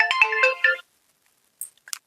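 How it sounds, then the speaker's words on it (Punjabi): A mobile phone ringtone for an incoming call: a short bright melodic burst of tones, then a brief gap and two faint high chirps, loud and close with no talk. "ਫੋਨ ਆਈ ਜਾਂਦਾ ਚੱਲ"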